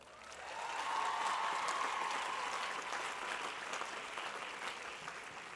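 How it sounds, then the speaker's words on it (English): A large crowd gives a giant round of applause at the 2013 Cal Poly San Luis Obispo commencement ceremony, a dense, even wash of clapping swelling in and holding steady, heard from a distance in a big space. "Can we just take a second to give them a giant round of applause?"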